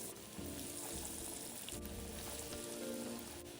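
Cempedak fritters of glutinous rice dough frying in oil heated to about 150–160°C, a loud, dense, continuous sizzle with crackling and bubbling throughout, close-up and without speech.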